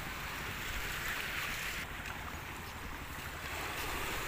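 Sea waves washing onto a beach, a steady broad rush of surf mixed with wind buffeting the microphone, continuous and fairly close with no voices.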